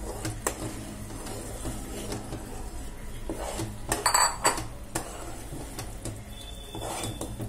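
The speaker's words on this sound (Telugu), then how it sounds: "ఇలా కలుపుతూ ఉండాలి, అలా కలుపుతూనే ఉండాలి, ఉండలు కట్టకుండా కలుపుతూ ఉండాలి." A spoon scraping and clinking in a pan as gram flour is stirred into ghee for soft Mysore pak, with faint, irregular stirring sounds and a couple of louder clinks midway.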